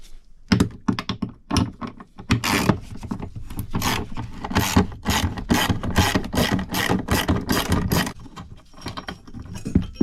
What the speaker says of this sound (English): we're going to be taking our 10mm socket and removing our 4 footwell bolts